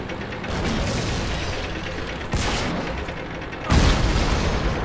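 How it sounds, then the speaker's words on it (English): Artillery fire in the tank combat game World of Tanks, with heavy booming shots over a dense, continuous battle rumble, two sharper blasts standing out near the middle and toward the end. "The M37 up there might be able to hit him, but it's an artillery piece and it's not really designed to shoot at tanks"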